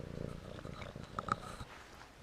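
A cat purrs at an incense-filled monastery in Tbilisi, a low, steady rumbling purr heard up close and quietly throughout, with faint background noise and no talking.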